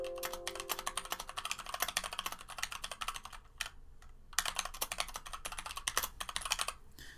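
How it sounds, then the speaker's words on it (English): An XD60 keyboard fitted with Zealios switches is typed on in a rapid, uneven patter of crisp close keystrokes, with a short pause midway and no speech. "let me type on this just briefly"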